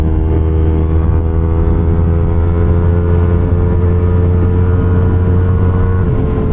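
A Yamaha MT25 motorcycle fitted with a long exhaust runs on the road, a loud, steady engine drone with strong low harmonics, close to the microphone and holding a constant tone throughout.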